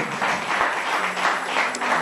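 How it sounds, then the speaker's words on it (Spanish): A church congregation applauds during a sermon, giving steady, dense clapping at a moderate level with a faint background hum. "¿Cuántos le dan un aplauso a Dios?"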